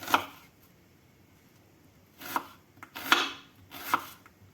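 Knife chopping through onion on a board in four quick, near, crisp strokes: one at the start, then three spaced out toward the end, with quiet gaps between.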